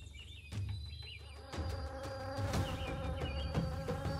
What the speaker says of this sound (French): Des plus petits insectes aux frelons mortels, diverses toxines se manifestent également chez les créatures qui dominent l'air.